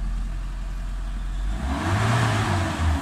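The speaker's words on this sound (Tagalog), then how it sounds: "Mitsubishi Adventure gasoline engine." The gasoline engine of a Mitsubishi Adventure with automatic transmission idles with a low rumble, then revs up with a rising whirring roar that holds for a moment and eases back slightly.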